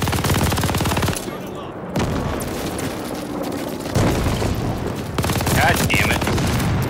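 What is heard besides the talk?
gunfire from a video game team deathmatch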